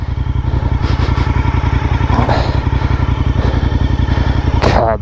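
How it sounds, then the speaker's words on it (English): A motorcycle engine runs loud and steady throughout, its rapid pulsing exhaust held at high revs during a wheelie, with a few thuds and clatters near the end. "I had smoother wheelies there, I wasn't so harsh in the forks."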